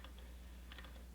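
A few quiet keystrokes on a computer keyboard during a Python lab walkthrough, a brief cluster of soft clicks over a low steady hum.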